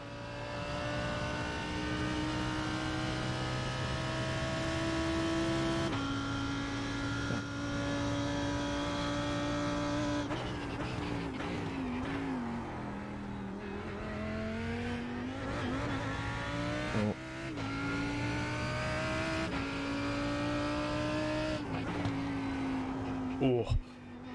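A GT race car engine at Monza in VRS GT, revving hard and climbing through the gears with sharp harmonic whine, dipping on lifts and braking, then rising again; steady, close and loud throughout.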